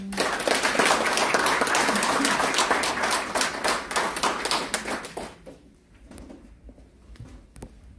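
Audience applause at a conference hall founding ceremony as a former prosecutor general is welcomed, brisk clapping for about five seconds that thins out into a few scattered claps.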